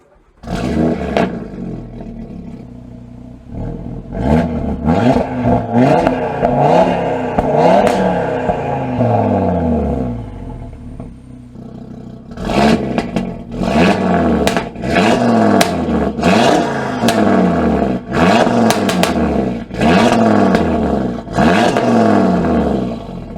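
A modified Audi RS3 with a new intake and intercooler is revved repeatedly, kept below about 2,500 rpm, giving loud, close, rising and falling engine roars with crackling bursts. A quieter lull comes midway, then another run of quick revs.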